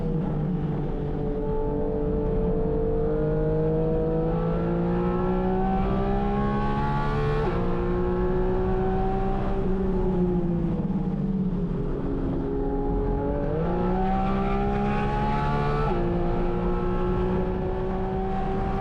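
Porsche 718 Cayman GT4 RS, a mid-engine sports car, at speed on a race track: a loud, continuous engine wail rising through the gears with short lifts and drops between, no talking.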